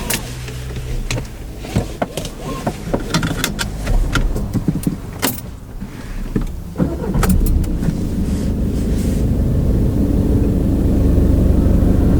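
A car pulls away and drives on during a driving lesson, its engine and road noise building to a loud steady rumble, with a few clicks and rattles early on.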